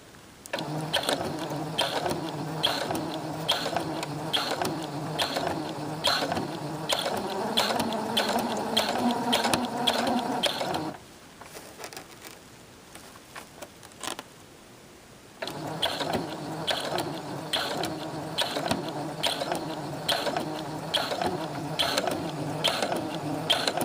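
A sewing machine stitches piping onto a small clutch handbag, a close, steady buzzing whir in long runs that stops for a few seconds midway and then resumes, with no talking.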